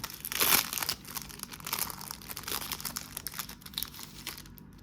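Cellophane wrapper on a 1985 Topps football cello card pack crinkling and tearing open up close, with a sharp rip at the start followed by steady soft crinkling and rustling throughout.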